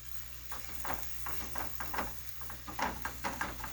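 Beef patties fry in hot grease in a skillet, giving a quiet, close crackling sizzle with repeated small bursts of popping and spitting over a steady hiss.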